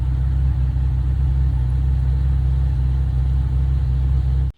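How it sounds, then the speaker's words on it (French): Steady, loud Aston Martin V12 engine holding a deep, even drone with no talk, cutting off abruptly at the end. "elle possède un V12 que peu d'entre elles auront eu un jour, avec cette sonorité typique à la Aston Martin"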